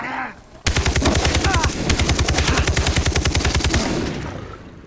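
Rapid automatic gunfire from the video game Far Cry 3 erupts after a brief voice, loud, sustained bursts of machine-gun shots with fast regular rhythm over about four seconds, tailing off slightly at the end.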